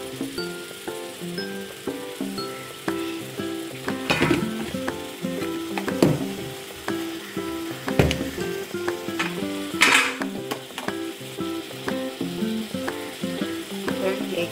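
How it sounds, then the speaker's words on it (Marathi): Soybean masala sizzles and fries in a pan, a steady close crackle broken by occasional spoon scrapes and clinks against the pan as it is stirred. "त्याच्यामध्ये आपण सोयाबीन टाकले, चांगले मिक्स करून घेऊया।"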